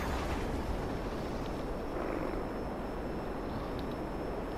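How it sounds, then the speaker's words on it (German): Aircraft engine drone from a plane flying during a GTA Online race, a steady broadband roar held at constant level throughout with no speech. "und jetzt geht's wieder mit dem Flugzeug weiter"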